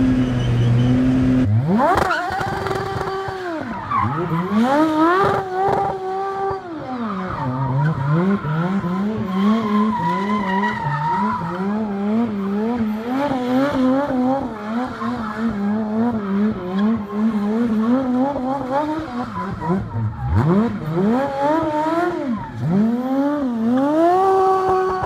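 An Aston Martin Vulcan hypercar sliding on track, its tires squealing and skidding in long wavering howls over a loud revving engine, close and continuous for the whole stretch.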